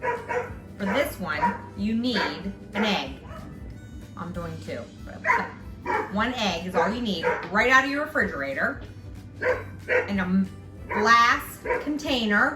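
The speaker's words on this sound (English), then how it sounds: "oh, sorry about my dogs outside." Dogs bark outside on a nice day, their muffled yips and barks coming from a distance beneath a woman's steady close-up talk.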